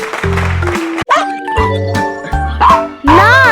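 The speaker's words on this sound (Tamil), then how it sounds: "நாய்." A cartoon-style dog barks loudly in several quick yaps over bright, tinkling children's music, all close and prominent.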